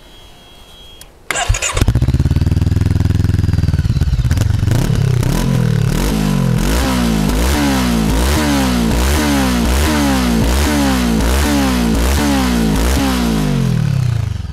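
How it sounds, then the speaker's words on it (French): A Brixton Crossfire 500 motorcycle on its stock exhaust starts with a sharp catch after a brief crank, then settles into a loud, close, steady idle with a rhythmic, pulsing beat that continues to the end. "on est sur un pot d'origine et le bruit est largement suffisant"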